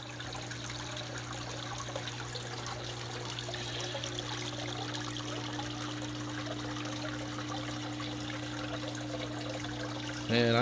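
Water trickles steadily through an aquarium waterfall tank, a soft continuous splashing flow alone at close range, with a steady low electrical hum beneath it throughout.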